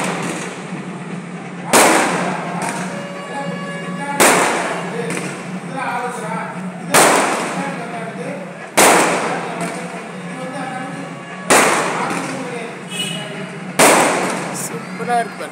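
Firecrackers burst at a temple festival, recorded from a rooftop: six loud, sharp blasts at roughly two-second intervals, each trailing off into crackling, over steady background noise and crowd chatter.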